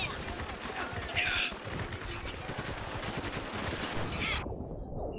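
Dense, continuous gunfire and explosions from a desert combat battle in Spec Ops: The Line, loud and sustained with rapid bursts, ending abruptly.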